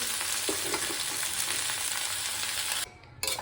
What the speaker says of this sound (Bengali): কাঁচা লঙ্কা কালো জিরে আর পেঁয়াজ কুচি দিয়েছি শাকটা দিয়ে দিচ্ছি